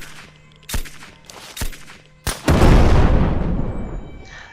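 In the video game Surroundead, three sharp gunshots crack with pauses between them, then a nuke on the ground explodes into a huge booming blast that rolls on as a long, heavy rumble.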